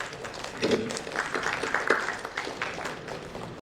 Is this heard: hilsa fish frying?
no